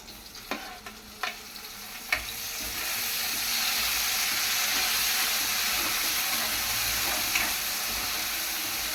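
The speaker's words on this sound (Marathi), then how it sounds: "यात मी आता कापलेला टोमॅटो घालते।" Chopped tomato tossed into a hot pan in a home kitchen: a few clattering stirs, then a loud, steady sizzle of frying that carries on close by without any talking.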